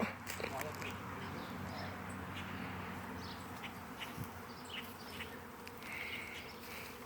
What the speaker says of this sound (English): You're not afraid of the bees, are you?